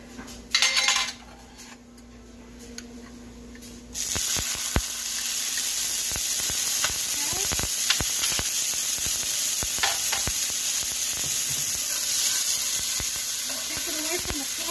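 Sofrito sizzles loudly in a very hot skillet on a high burner, a steady crackling hiss after a sudden start, with occasional clinks of a utensil stirring the pan.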